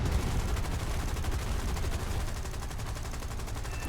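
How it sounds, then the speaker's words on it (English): Rapid bursts of .50 caliber machine-gun fire from a P-400 or Hurricane Mk.I in a War Thunder air battle, a dense, continuous, loud rattle with no talk over it. "I'll bet my 50 calibers against its tank buster cannons any day in a head-on."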